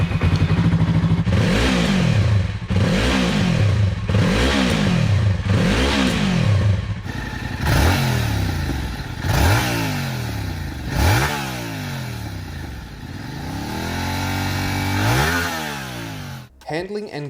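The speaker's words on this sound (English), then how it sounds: "Let's also have a quick listen to the stock exhausts of each." Stock exhausts of a Yamaha R3 and a Yamaha R7 motorcycle rev in turn: first a series of about five rising and falling throttle blips, then a second bike's deeper, longer revs, loud and close.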